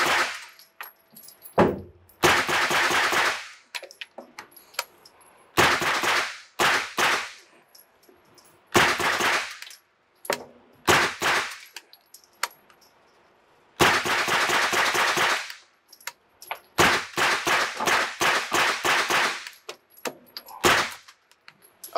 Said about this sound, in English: let's shoot it in a little bit, see if it'll actually run